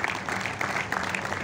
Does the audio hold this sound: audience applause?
yes